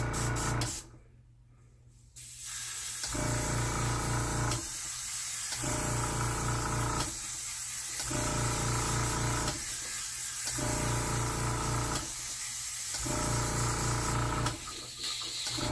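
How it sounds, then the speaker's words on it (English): An airbrush sprays foundation makeup in a steady close hiss driven by a constantly humming compressor, with the spray cutting out briefly at regular intervals as the trigger is released and pulled again. "how I pull the trigger back. The harder you pull back, the more that comes out"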